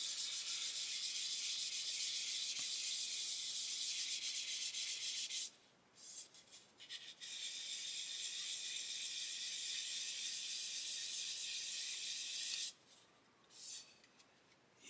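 Steady, close scratchy sanding of a plastic 1/32 Fokker E.IV model surface, continuous strokes broken by two brief pauses.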